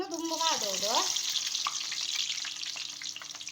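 Sliced onions fry in a pan of oil, giving a close, steady sizzle throughout, with a brief voice heard near the start.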